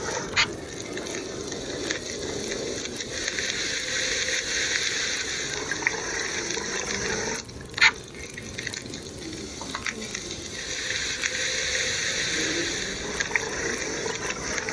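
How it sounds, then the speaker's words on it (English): Water heating over a fire in The Long Dark, a steady soft bubbling and hissing bed with occasional faint clicks and pops, fairly quiet and continuous throughout. "Time to boil 20 more liters of water"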